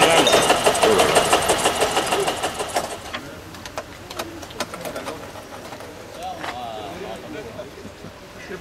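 A single-cylinder tractor engine in Brasov, Romania runs with a steady, rapid thumping beat. It is loud at first, then fades into the background, where voices and birds can be heard.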